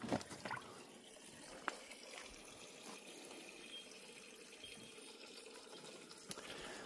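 Water pours steadily from a stone fountain outdoors, a soft continuous trickle and splash heard faintly at a little distance, with a couple of small knocks and no talking.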